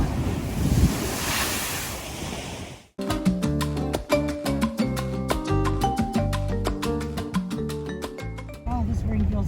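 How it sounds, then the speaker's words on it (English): Ocean waves surge in on the Barbados coast with a loud, rushing, spray-filled wash lasting about three seconds, then give way to a sharply different tonal, rhythmic passage. "Oh my God, and the waves are coming in."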